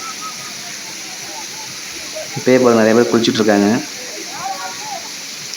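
Kannimar Odai waterfall pours after heavy rain in a steady, full roar of rushing water, with people talking briefly over it near the falls.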